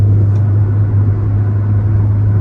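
Steady low engine drone and road rumble from a 2013 Honda Civic Si cruising at 75 mph in sixth gear, a constant hum with no talk.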